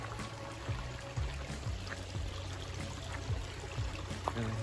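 A small creek flows with a steady close rushing and trickling of water, with faint splashy ripples throughout and no voices.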